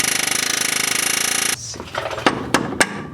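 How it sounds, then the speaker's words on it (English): An air hammer pounds on car suspension parts during a coilover install, a rapid loud rattling burst for about a second and a half, followed by several sharp metallic clanks. "I got a little air hammer here that's gonna help me out a bit"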